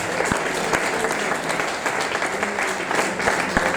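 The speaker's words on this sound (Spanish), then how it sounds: "Dale un fuerte aplauso al Dios" Steady applause from a church congregation fills the whole stretch, dense and continuous with a few sharper claps standing out.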